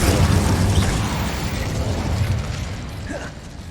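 A fire spell bursts in Hogwarts Legacy on hard difficulty, a loud rumbling whoosh with low booming flame noise that stays steady, then thins slightly toward the end.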